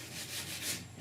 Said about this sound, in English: So I'm just kind of roughing it down with 80 grit, especially these little nicks on top.